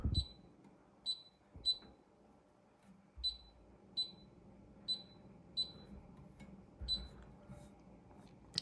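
Short high electronic beeps from a Frigidaire FCWS3027A wall oven sound one at a time at uneven intervals, fairly faint over a quiet background with a few soft low thumps.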